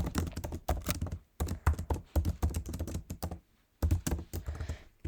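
Computer keyboard keys clatter in quick irregular bursts while JavaScript code is entered, loud and close, with brief pauses between runs of keystrokes.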